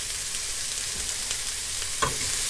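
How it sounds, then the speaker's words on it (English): Food lightly frying in a pan while a homemade quiche is prepared, giving a soft, steady sizzle and crackle close by, with a brief clink or stir near the end and no talking. "just going to let that lightly fry"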